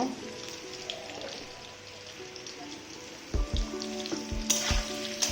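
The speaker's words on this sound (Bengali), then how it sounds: "আলুটা হালকা তাপে ভাজবো" Potato fries on low heat with a soft, steady sizzle, joined near the end by a few sharp knocks and clatters of a utensil against the pan.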